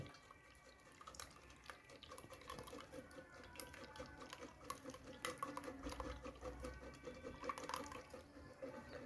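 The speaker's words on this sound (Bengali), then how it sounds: "এই গুলে যাওয়া বেলের যে শরবতটা ওটাকে দেখুন ছাঁকনির সাহায্যে ভালো করে ছেঁকে নেওয়া হচ্ছে" Bael fruit sherbet strained through a sieve in a kitchen, with soft wet trickling, dripping and light stirring scrapes, faint and continuous throughout.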